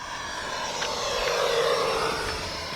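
E-flite F-16 Falcon 80mm EDF radio-controlled jet on its maiden flight, a steady rushing ducted-fan whine with a slowly swelling and shifting pitch as it passes, moderately loud, no talk.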